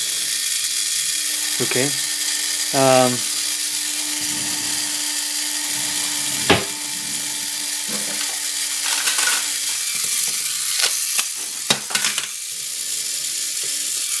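A small Tamiya Mini 4WD car motor whines in a steady high-pitched buzz, close and continuous, with a brief spoken word and some clicks and handling noises.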